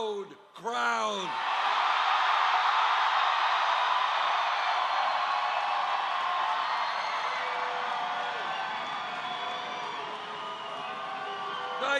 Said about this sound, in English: this is a loud crowd